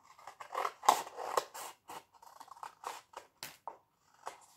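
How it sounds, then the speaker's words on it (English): Close scissors snip and slide through paper in a quick, irregular series of cuts, trimming the edges of a paper bunny cone craft, with soft scraping between them and no talking. "just get the scissors again"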